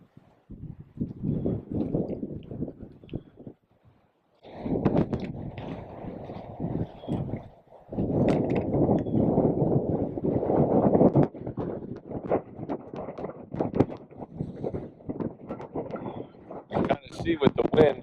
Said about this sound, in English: It's that windy out.